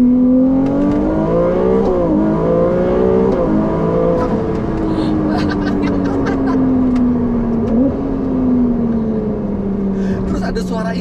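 Ferrari 296 GTB hybrid V6 engine revving on a Jakarta road, a loud close rising and falling drone with gear-like pitch shifts, while people talk over it.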